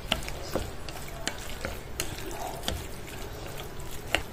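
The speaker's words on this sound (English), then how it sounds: "And I add 2 eggs, cup of breading mix. Then let's mix together." Two eggs and a cup of breading mix are stirred together in a bowl, giving a steady, soft, wet churning texture punctuated by light irregular clicks of the utensil against the bowl.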